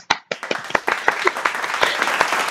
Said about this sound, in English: Now put in a fake applause